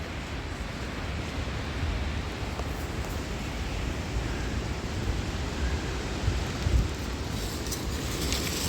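Creek water flowing in the woods, a steady broadband rush and babble that holds even throughout, fairly close and without voices.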